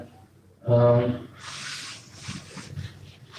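Writing being rubbed off a classroom board. A voice speaks briefly, then a soft, close, scratchy rubbing follows in several strokes.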